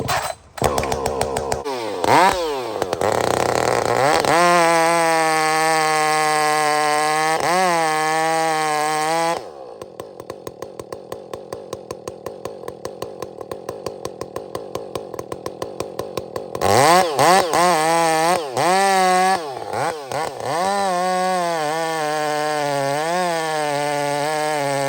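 A Husqvarna 562 chainsaw felling a tree: a loud, close engine that revs and bogs as it bites into the wood, eases to a rough idle for several seconds, then roars back up through further cuts.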